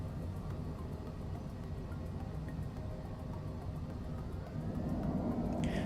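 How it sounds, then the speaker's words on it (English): Cessna Longitude business jet thrust reversers roar steadily on landing rollout in Microsoft Flight Simulator 2020, a dense continuous rumble that swells slightly louder near the end. "Engage the reversers."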